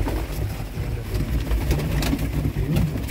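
Pigeons coo softly and steadily in a loft at feeding time, their low murmuring calls overlapping continuously at close range with no talking.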